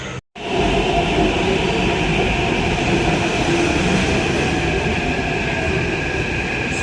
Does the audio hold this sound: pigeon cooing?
no